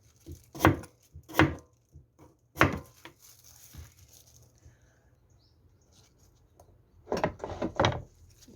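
A knife chops radish on a cutting board in several sharp, close thuds, two quick strikes, then a single one, a pause, and another pair near the end.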